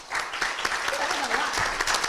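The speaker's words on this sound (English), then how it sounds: "And everybody, please give Tim a round of applause." Audience applause at a political forum on voting and democracy: a dense, steady wash of clapping from a roomful of people lasting about two seconds, with a voice faintly speaking over it.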